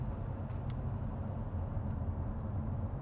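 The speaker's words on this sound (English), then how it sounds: "I hear the other car's tire noise." Steady low road rumble and tire hiss from cars passing at a distance, heard from inside a 2019 BMW M850i in traffic, continuous and moderately loud with no talking.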